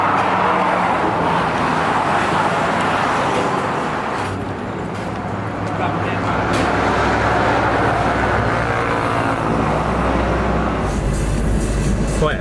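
Car driving home at sunset in Hua Hin, Thailand, with a continuous interior road rumble and engine drone, steady and fairly loud, rising slightly in low rumble toward the end.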